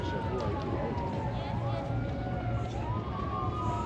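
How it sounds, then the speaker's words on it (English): An ambulance siren wails continuously near a seafront road during a Sunday morning race in Paphos, the pitch sweeping up and down at moderate distance over crowd and street noise, with voices underneath. "There was an ambulance going up there, and it seems to be coming back in now"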